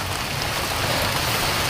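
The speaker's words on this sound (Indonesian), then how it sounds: "Bukan gerimis, hujan sih." Heavy rain pouring down in a forest, a dense, loud and steady hiss of drops with no pauses, heard close and without any talk over it.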